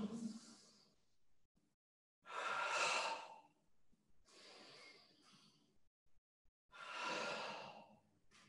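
Deep exhalations and sighs during a guided karate stretching session, several long breathy bursts with pauses between them, close and clear with no talking.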